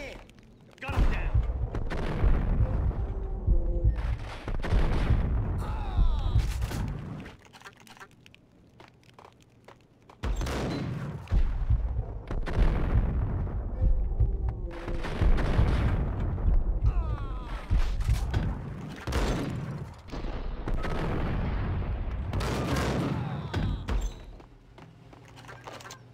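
Gunfire in a Max Payne shooter, bursts of shots cracking out in loud, dense volleys at intervals, mixed with impacts and thuds, with a brief quieter lull between clusters.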